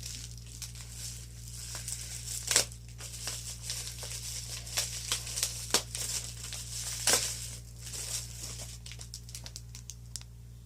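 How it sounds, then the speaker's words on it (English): Crinkling plastic packaging as card sleeves ordered from Japan are unboxed, with soft rustles and several sharper crackles and crumples close up, no voices. "So I'm going to unbox my card sleeves that I ordered from Japan"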